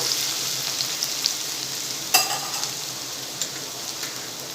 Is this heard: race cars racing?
no